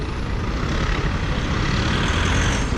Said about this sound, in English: we're also having modern buses coming in